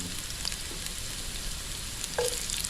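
Garlic fries in a pan on a home stove, giving a steady close sizzle with a few clinks and a brief scrape near the end, and no talk.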